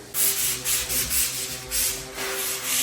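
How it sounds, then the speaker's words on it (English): Close, steady scraping of sandpaper on an interior house wall being prepared for painting, in short repeated strokes, with no one talking. "Sanding the walls so paint easier"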